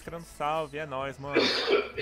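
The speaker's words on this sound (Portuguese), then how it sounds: "o maluco tossindo aí" A person coughs and clears the throat in a short rough burst after a few spoken words, close and fairly loud.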